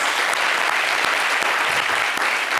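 A studio audience gives a guest named Caprice a loud, sustained round of applause, dense and continuous clapping filling the room throughout.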